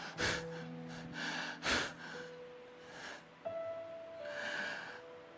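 A voice imitates breathless panting, a few sharp gasping inhales and snorting breaths with short pauses, close and fairly quiet.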